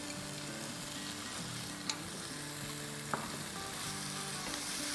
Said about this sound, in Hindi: अब मसाले को अच्छे से भून लेंगे